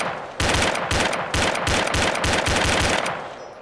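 Rapid automatic gunfire in the ARMA 2: Wasteland game, a loud close burst of evenly spaced shots lasting about three seconds before tapering off, with no talking.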